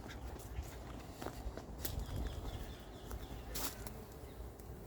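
Honey bees buzz near and far around a hive feeder with syrup at an apiary in Montgeron, faint scattered drones and passes over a low background with a few sharp clicks.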